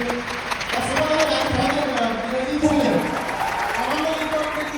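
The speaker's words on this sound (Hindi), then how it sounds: "चलिए एक बार जोरदार ताली आप लोग बजाएंगे यहाँ पर खान साहब के लिए।" Audience applause at a live motivational seminar in Patna, a steady wash of clapping throughout with crowd noise and a voice talking over it.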